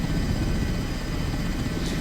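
An H145 helicopter in Microsoft Flight Simulator gives a loud, close, continuous rotor and turbine drone with a steady thumping texture over two seconds.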